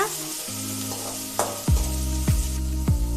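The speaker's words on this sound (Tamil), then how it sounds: "வெங்காயம் நல்லா வதங்கட்டும்" Chopped onion sautés in hot oil with curry leaves for banana stem poriyal, giving a close, steady sizzle, with a few sharp stirring scrapes from the pan.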